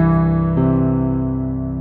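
A reference pitch tone for a beginner chest-voice singing exercise, played as a steady, loud sustained note with rich harmonics that shifts slightly partway through and holds with a gently fading level.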